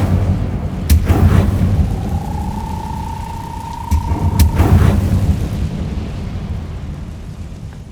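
Incendio fire spell cast in Hogwarts Legacy, two heavy booming bursts a few seconds apart with a whooshing fiery rumble and a sustained magical tone between them, loud and close.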